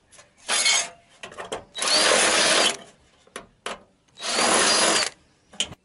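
A power drill bores out spot welds on a car hood, two long loud grinding bursts of metal drilling separated by short taps, clanks and handling noise on sheet steel.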